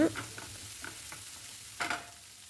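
Onions and tomato sautéing in a pan, with a few soft spatula scrapes and stirring bursts over a faint, low sizzle; one stronger scrape stands out near the end.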